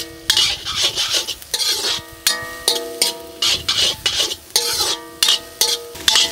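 Ingredients are stirred in a cooking pan with a spoon, producing repeated rhythmic scrapes and clinks of metal on the pan, loud and close, about two strokes a second.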